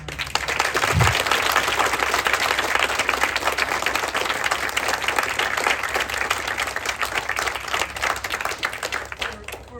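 Sustained applause from a summer camp audience, dense steady clapping filling the whole stretch, with a voice briefly heard over it.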